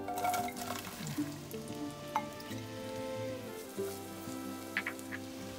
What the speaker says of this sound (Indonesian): sepertinya udah panas ya guys terus kita masukin ini bawang putih eh, sama bawang bombay tadi ya